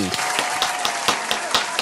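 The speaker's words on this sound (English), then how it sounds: "Let's clap it up to Johnny Santos." Scattered hand claps from a small podcast audience, a few distinct near slaps at a steady pace over a low hum, with no talk over them.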